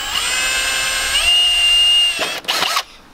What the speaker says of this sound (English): Actually need to drill a little hole through the plastic there.